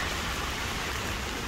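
Steady rain falling outside on a mild morning, a soft, even hiss with no distinct drops or voices.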